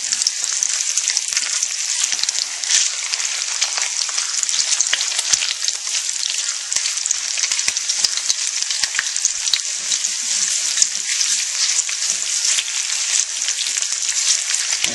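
Filipino tocino sizzles and crackles steadily in a hot non-stick pan, a bright, constant frying hiss with small pops throughout.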